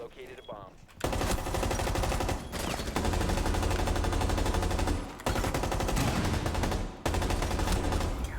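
Sustained automatic gunfire rattles in long loud bursts in a Rainbow Six match, broken by brief pauses, after a short quieter stretch at the start.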